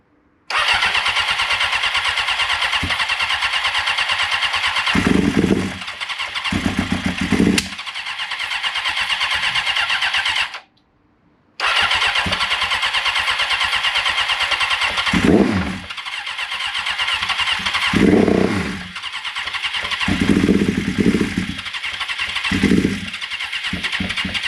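A 1996 Suzuki GSX-R 750 SRAD track bike with a secondhand engine is cranked by its starter in long loud whirring spells with a brief silent gap between them, while a few low sputtering firing attempts come through.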